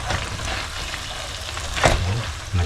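Tilapia fries in hot oil with a steady close sizzle, a couple of louder crackling pops rising out of the constant hiss, and no voices.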